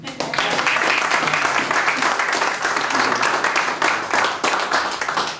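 At a payadores gathering in San Carlos, an audience bursts into close, vigorous applause that fills the whole stretch as a dense, unbroken clatter of many hands before tapering slightly at the end.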